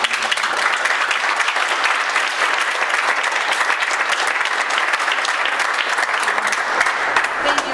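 Members at a board meeting applaud, producing sustained, even clapping from a crowd that holds steady for the full stretch without breaks, moderately close and full.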